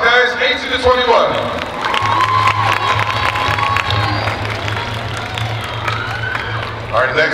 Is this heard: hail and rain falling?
no